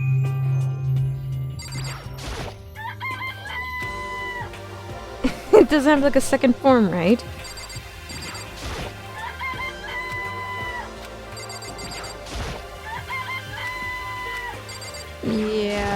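Chickens cluck and a rooster crows in the Danganronpa: Trigger Happy Havoc video game, mixed with synthetic game chimes and music while people talk over it.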